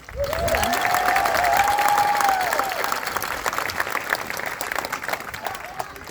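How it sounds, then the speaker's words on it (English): An audience at the Washington and Lee High School Class of 2019 graduation breaks into loud applause, with a rising whoop or cheer early on and clapping continuing steadily to the end. "if you could give the class of 2019 a round of applause"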